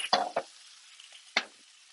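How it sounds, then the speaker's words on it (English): Vegetables are tossed in a hot pan, giving three sharp scraping clatters over a soft, faint sizzle, close and brief, with no voices. "Make sure every once in a while to toss your veg."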